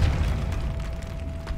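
A Depulso spell blast in the Hogwarts Legacy video game lands as a dull, boomy burst, followed by a sustained low rumble with a faint steady tone running throughout, and no voices.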